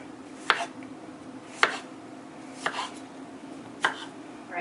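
Strawberries are chopped finely with a knife on a cutting board, four crisp evenly spaced chops at a steady, unhurried pace, close and clear.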